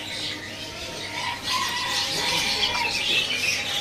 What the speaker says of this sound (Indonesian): Berikutnya di sini ada burung cicak kembang.